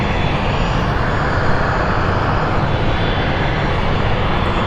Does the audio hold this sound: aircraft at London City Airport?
yes